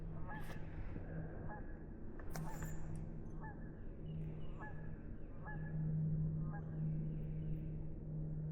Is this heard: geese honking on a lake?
yes